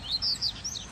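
A papa-capim, or capped seedeater, gives a quick series of high, thin chirps close by, three or four bright notes in a row with a soft hiss behind them.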